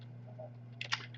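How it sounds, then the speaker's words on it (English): Brief burst of keystrokes on a computer keyboard entering a Linux terminal command, a few quick close clicks over a faint steady hum. "So let's type sudo"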